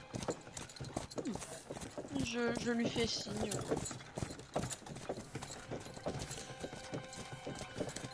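Horse hooves clip-clopping as a tabletop role-playing game sound effect, a steady rhythmic clatter of hoofbeats with a brief whinny near the start, heard under someone speaking.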